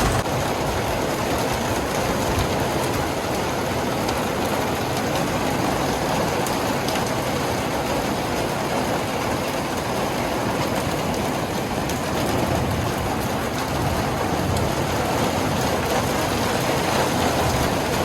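Heavy rain pours down in a dense, continuous roar, loud and steady throughout with no voices.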